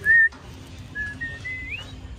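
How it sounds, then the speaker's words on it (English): A woman whistles the Bridge on the River Kwai tune near the bridge in Kanchanaburi, Thailand: a short loud note, a pause, then a longer rising whistled phrase over faint outdoor background. "His mom's just whistling the song here."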